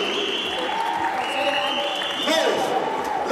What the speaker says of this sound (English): Round of applause every time for the runners up to section.